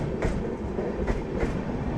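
The Tirumala Express, an overnight superfast train between Bhubaneswar and Bengaluru, rumbles along steadily at moderate volume, heard from inside with rhythmic clickety-clack wheel beats over a continuous low rolling noise.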